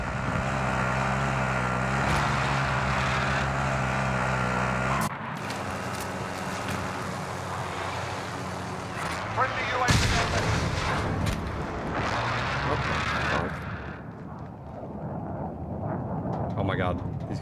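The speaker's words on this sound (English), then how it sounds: "Be advised, friendly position airstrike inbound." Rumbling blasts and heavy booms roll through an airstrike in a Call of Duty Warzone match, a dense, loud barrage with a sharp hit around the middle, overlaid by spoken voices.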